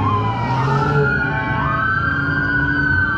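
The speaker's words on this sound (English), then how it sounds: "I know y'all tired of the siren" A video game police siren on a GTA server wails, sweeping up and down continuously, loud and close, with a low engine hum underneath.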